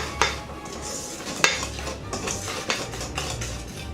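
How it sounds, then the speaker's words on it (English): Dry ingredients being mixed into devil's food cupcake batter in a bowl, with repeated clinks and scrapes of a utensil against the bowl, one sharp knock near the start and a louder one midway, close and alone. "we're going to add in about 1/3 of our dry ingredients. Mix this together."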